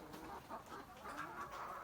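Several hens clucking and murmuring close by outdoors, a busy overlapping chatter of short calls with no voices.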